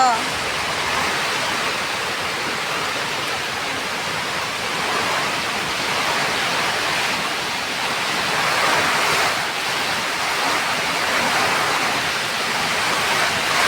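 A strong gusty wind rushes steadily before rain, loud and continuous, with gentle swells and no break in the roar.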